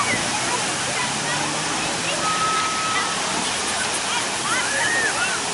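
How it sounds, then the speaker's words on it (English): Water from Chicago's Buckingham Fountain sprays and splashes in a loud continuous rushing roar, with a voice exclaiming over it. "Woo, look at that fountain."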